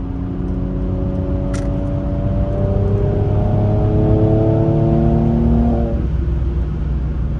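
Mercedes C43 AMG engine cruising on a highway at night, a steady loud droning hum with shifting engine tones and road noise rising slightly before easing off.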